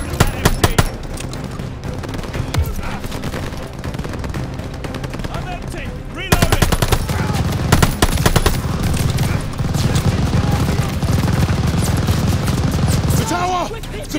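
Sustained machine gun fire from the video game Call of Duty: Vanguard, a dense rattling barrage that runs nearly nonstop, swelling louder after a brief lull, with battlefield voices shouting under the din.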